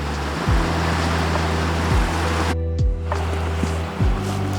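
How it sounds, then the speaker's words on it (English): Ocean waves break on a rocky shore at night during stargazing, a steady broad wash of surf with low thuds every second or so, some wind noise against the microphone and no talking. "The sounds of the waves."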